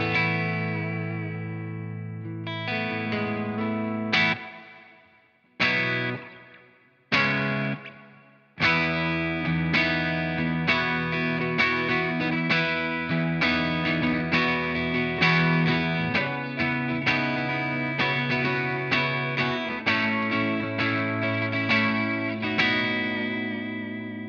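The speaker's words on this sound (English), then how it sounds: "we've got three options for reverb. So we're on the hall setting" Electric guitar chords and notes ring out through a reverb pedal on its hall setting, spacious reverb, a few short gaps letting the tail decay before playing resumes, loud and close.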